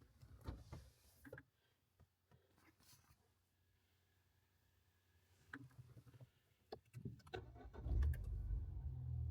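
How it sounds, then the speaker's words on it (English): Ford Fiesta ST being started with a newly programmed second key: a few clicks and thumps, a short starter crank, then the engine catching and firing up loudly near the end, with no talking. "And the car starts."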